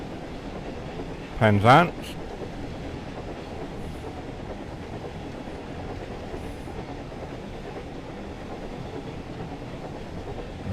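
Thomas the Tank Engine runs along the Great Western Line in a train video game, a steady low rumble of rolling wheels and engine throughout, with a brief spoken word near the start.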